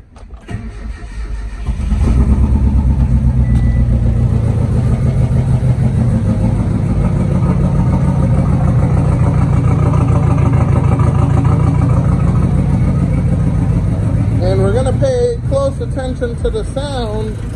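A silver 1988 Mitsubishi Starion cranks briefly, then catches and settles into a loud, steady idle that runs on, with some engine noise shifting near the end.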